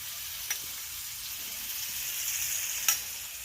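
Onion with a pinch of turmeric frying in a pan for a vegetable dish, a soft steady sizzle, quiet and close, with a couple of brief clicks of a utensil against the pan.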